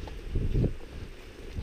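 Low rumbling wind of about 15 to 18 mph from the south buffets the microphone in short gusts, a muffled blustery roar close up with no talking.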